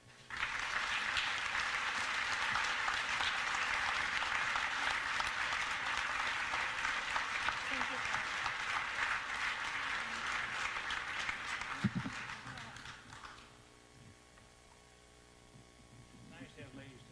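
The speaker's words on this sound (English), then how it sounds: "can we have another round of applause, please, for Bill Shover?" Sustained audience applause fills a hall at a storytelling event remembering a reporter, steady and dense for about twelve seconds before fading into a low room hum with faint stray claps.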